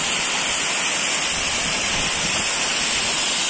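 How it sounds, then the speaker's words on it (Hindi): Kaka Kaki waterfall in Maharashtra, a small falls roughly 10 to 11 feet high with low water flow, gives a loud, constant rushing hiss of falling water, unbroken and with no voices. "ये पानी ऊपर से गिर रहा है"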